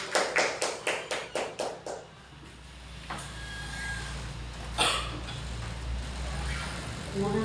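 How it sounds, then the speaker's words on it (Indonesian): About eight rhythmic group claps from an audience at a school teacher gathering, crisp and evenly spaced, then giving way to a quieter room with low murmuring and a couple of knocks. "Beri tepuk tangan untuk Bu Fitri."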